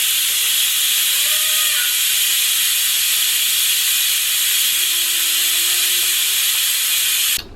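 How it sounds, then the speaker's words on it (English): An Instant Pot pressure cooker vents steam after cooking basmati rice, giving a loud, steady, close hiss that holds constant for several seconds, with faint tonal whistles drifting through it, and then stops sharply at the end. "steam is gonna shoot up, guys, so be careful"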